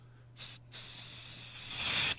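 A paint spray gun hisses in short bursts, a brief spurt, a gap, then a longer steady spray that grows louder before it stops, heard close up in an old radio comedy with a faint hum underneath.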